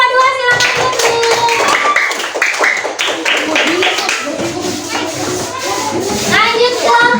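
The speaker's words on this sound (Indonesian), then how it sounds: "Oke, tepuk tangan untuk kelompok 2." Children in a classroom clap together for a group of classmates, a dense burst of small-handed claps with a rapid, uneven rhythm. Young voices chatter and call out over the clapping throughout.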